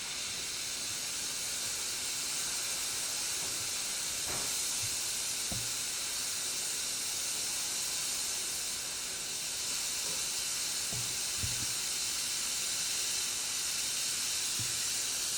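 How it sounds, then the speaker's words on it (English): An oxy-acetylene torch with a number 5 nozzle burns a gentle flame while work is done on shock mounts for a 1963 Porsche 904, a steady soft hiss running throughout with a few faint knocks. "we're gonna run a fairly gentle flame"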